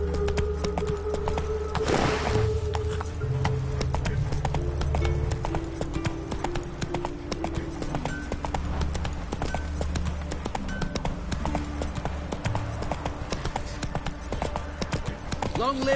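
Roach the horse gallops in The Witcher during the battle of Kaer Morhen, rapid steady hoofbeats running throughout, with voices and a low droning background over the clatter.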